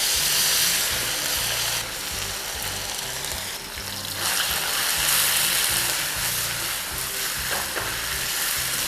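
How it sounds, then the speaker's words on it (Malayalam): Marinated beef frying on high flame in hot oil in a pan for a stir fry. A loud, steady sizzle runs throughout with a dense crackle, and a low tonal hum sits underneath. "ഓയിൽ ചൂടായതിനു ശേഷം നമ്മൾ നേരത്തെ മാരിനേറ്റ് ചെയ്ത് വെച്ച ബീഫ് ഇതിലേക്ക് നമുക്കിടാം."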